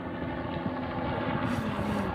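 An Edmonton Police helicopter flying overhead on patrol in Canada, a steady low rotor and engine drone that stays continuous and fairly loud throughout, with no voices.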